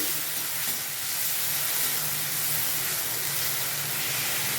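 Ground lentil paste granules, from split peas and mung beans, frying in a pan for a stuffed pointed gourd dish, giving a continuous even hiss at moderate level with no talk.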